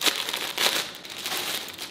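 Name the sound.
plastic parcel bag being opened and crinkled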